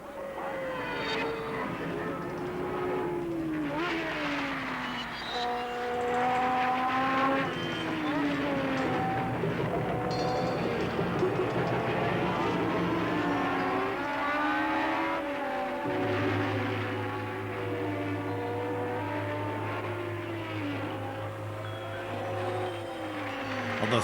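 Formula 1 cars race at Monza in 1974, engines whining and shifting pitch as they pass and rise through the gears, with a steady roar and a low drone joining in partway through, layered under commentary-like voice.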